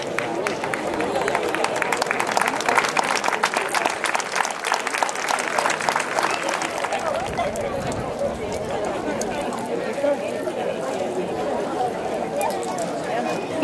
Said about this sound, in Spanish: Pedir para ellos otro fuerte aplauso.